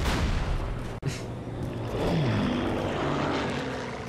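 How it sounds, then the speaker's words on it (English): Propeller airplanes drone overhead in the World War II shooter Call of Duty 2, a steady loud engine roar filling the scene with a brief cut and a faint distant thump. "And those airplanes flying overhead were always there from the very"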